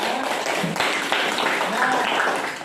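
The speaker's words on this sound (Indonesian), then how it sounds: "tepuk tangan untuk kita semua" A classroom of students claps for everyone, a dense, steady burst of applause lasting a few seconds with voices mixed in.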